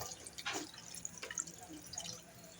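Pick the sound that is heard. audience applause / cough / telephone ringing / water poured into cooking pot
water poured into cooking pot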